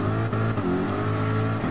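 A race car engine in the Gran Turismo 7 racing game revs steadily at high pitch, a continuous loud drone with brief shifts in tone, no talk over it.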